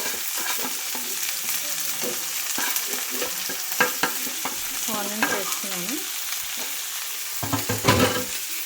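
Chopped onions sizzle and fry in a hot pan for an Indian-style potato and bitter gourd curry, with repeated scraping strokes of a spoon stirring them, the steady hiss broken by close clinks and louder scrapes near the end.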